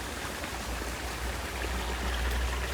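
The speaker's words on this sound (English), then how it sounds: "there's water flowing" Steady rushing water flows nearby in North Goa, a constant broadband wash with a low rumble underneath and no voices.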